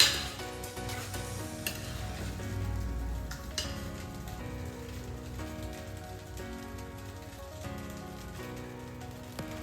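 Restaurant-style egg fried rice is stirred and tossed in a pan, with a continuous crackling sizzle and scraping under steady background music.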